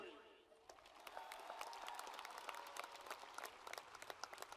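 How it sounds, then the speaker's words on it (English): A high school graduation audience applauds graduates entering the United States Army, steady distant clapping with crisp individual claps standing out, holding at an even level. "Please give these graduates a round of applause"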